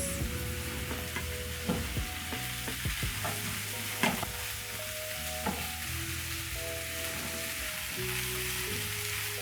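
Grated ginger and green onions stir-frying in a pan, a continuous sizzle broken by several sharp spatula clacks and scrapes at irregular intervals, close up with no voices.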